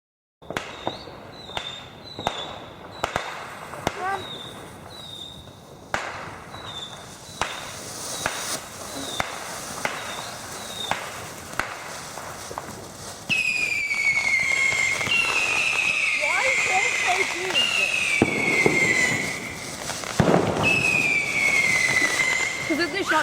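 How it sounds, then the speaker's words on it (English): Fireworks exploding outdoors on Northern Territory Day: a rapid series of sharp cracking bangs, followed by loud whistling, screeching rockets and further booming bursts over a constant crackle, fairly close. "Big firework on Northern Territory Day."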